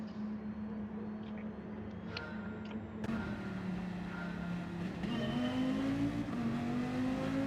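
A Viper race car in Gran Turismo 7 drones steadily at the race start, then its engine pitch climbs as it revs up and accelerates, loud and continuous.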